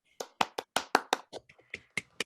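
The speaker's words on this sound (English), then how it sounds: "let's give the actors a round of applause" Scattered handclaps from a few people in an online theater festival audience, uneven and brief, a dozen or so sharp claps over a couple of seconds.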